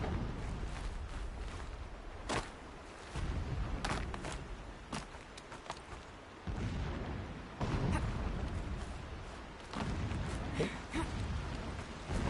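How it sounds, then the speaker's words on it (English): Distant explosions in Horizon Zero Dawn rumble as repeated low booms through the scene, spaced irregularly over a steady rain-like hiss, with no voices. "Explosions in the distance."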